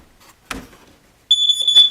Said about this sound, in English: Smoke detector, and if this does not work,